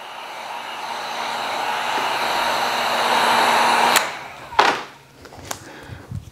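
A heat gun blows on vinyl wrap on a Tesla Model Y, a steady airy whir lasting about four seconds before cutting off, followed by a few brief handling knocks and rustles.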